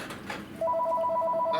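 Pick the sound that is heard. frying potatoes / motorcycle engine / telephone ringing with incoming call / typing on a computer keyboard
telephone ringing with incoming call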